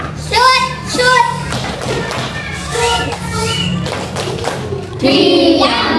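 Classroom of children at MIN 13 Blitar doing the tepuk diam clapping chant: loud, rhythmic group claps and thumps alternate with young voices chanting together, close and lively.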